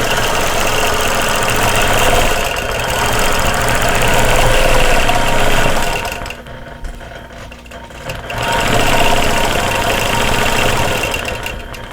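A sewing machine runs loud and close in stitch-regulated mode at 12 stitches per inch, free-motion quilting around an embroidered heart: a steady mechanical whir that pauses briefly midway, then resumes.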